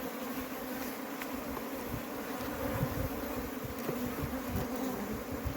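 Honeybees at an apiary in South Africa's Overberg hum in a steady, dense buzz during a spring hive inspection, close and constant, with individual bees droning past.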